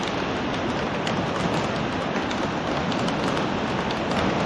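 A dense, unbroken downpour drums hard on a nearby surface, loud and steady throughout.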